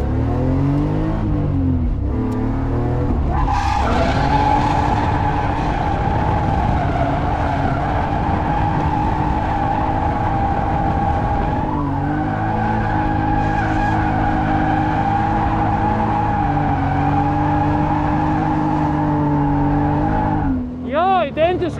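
A street racing car drifts, with loud sustained tire squeal over a revving engine. The screech holds steady for most of the run, with pitch shifts as the car changes angle.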